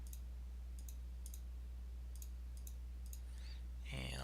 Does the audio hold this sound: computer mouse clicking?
yes